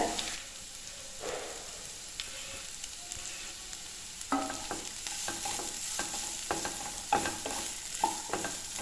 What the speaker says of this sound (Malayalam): നന്നായിട്ടൊന്ന് വഴറ്റി കൊടുക്കുക